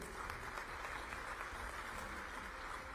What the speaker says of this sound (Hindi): ये ताली किसके लिए बजाई?